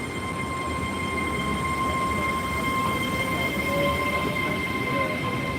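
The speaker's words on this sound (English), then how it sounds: "Off goes the rear of the train." A Great Western Railway train runs past at speed on the Great Western Main Line, a continuous close rumble carrying steady high whining tones.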